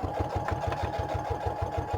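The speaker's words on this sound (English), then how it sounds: "But I do like to stitch these things if I can." A sewing machine stitches items into a junk journal, its needle thumping in a fast, even rhythm of about five beats per second, close and moderately loud with no voices over it.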